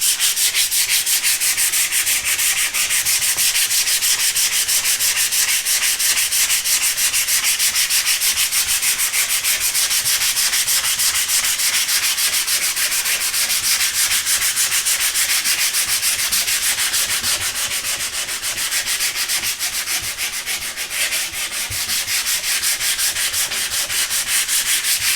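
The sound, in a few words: sandpaper sanding polyurethane finish on wood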